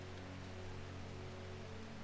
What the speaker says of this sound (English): Oh, it started thundering and raining here as well.